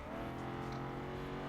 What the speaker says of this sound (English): it's a massive V8 Aston Martin that someone decided to go rallying with